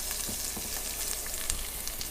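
Garlic sizzling and frying in bacon fat in a kitchen pan for mac and cheese, a steady close crackle with small pops and a faint stir, no talking.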